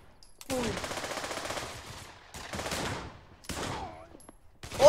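Desert Eagle pistol fire in the VR shooter Pavlov VR comes as several loud, reverberant blasts separated by short silences, with a final sharp shot at the end and no talking.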